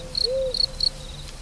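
Crickets chirp in a chorus, giving several short, high, pure trills spaced evenly apart over a faint background, alongside a single lower tonal whistle.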